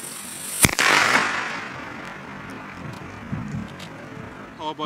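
A Powerboy firecracker from a Crackling und Knall set bursts in a cellar with one sharp bang, then a loud fizzing crackle that fades over a few seconds.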